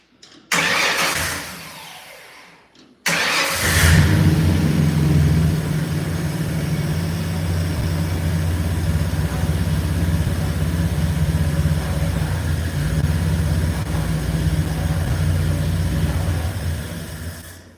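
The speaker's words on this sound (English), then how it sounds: "the starter solenoid's bad, obviously. That's why I'm jumping it out." A car engine with a bad starter solenoid is jumped from outside and fires up after a short burst of cranking, then settles into a steady, loud idle that runs on alone.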